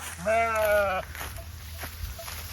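Sheep of the Barari long breed from a flock of around 500 herded by Rajasthani shepherds in Chhattisgarh; one loud, clear bleat lasting under a second stands near, followed by quieter field ambience with faint distant bleats.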